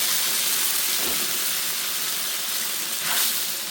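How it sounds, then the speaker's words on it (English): A steady, loud sizzling hiss of 500 ml of hot base gravy hitting a hot pan with chickpeas for a chana balti, continuous and close, with a brief swell of bubbling near the end. "Next I've got some base gravy, straight from the microwave, 500 mils, that's going straight in"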